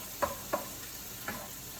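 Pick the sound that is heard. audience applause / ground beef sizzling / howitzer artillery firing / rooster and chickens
ground beef sizzling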